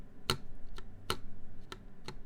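Keys on a mechanical keyboard are tapped one at a time: five crisp, clacky taps at uneven intervals, close and clear, with no talking.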